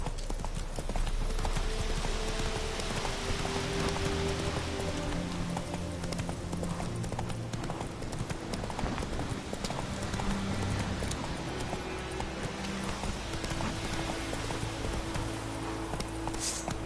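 Hooves of the horse Roach clip-clopping in a fast galloping rhythm within a video game, steady and continuous under a dense wash of game ambience and music.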